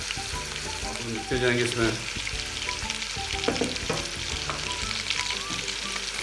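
Beef paya frying with garlic ginger paste in a pan, a continuous sizzle broken by scraping stirring strokes and clinks, with someone speaking briefly over it.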